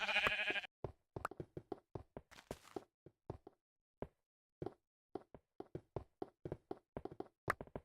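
Sheep bleating in Minecraft alongside a steady series of sharp, dry knocking taps spaced through the scene, fairly quiet and clean with no talk.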